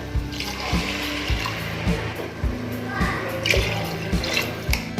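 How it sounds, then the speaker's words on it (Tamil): Three cups of water being poured into a pot of rice for tomato rice, a steady splashing trickle under rhythmic background music. "இப்போது நான் இதுக்கு வந்து தண்ணி வந்து நான் 3 கப்பு தண்ணி சேர்த்துக்கிறேன்."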